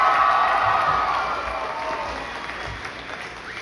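The Rockwell Charter High School class of 2023 cheers and applauds at their graduation, a loud dense roar of clapping and whoops that slowly fades over a few seconds.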